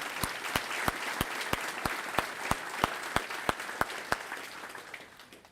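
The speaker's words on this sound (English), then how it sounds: "Let's give them all a round of applause as a sign of gratitude." Audience at a career center graduation passport ceremony gives a round of applause, a dense wash of clapping with sharp individual claps standing out, tapering off toward the end.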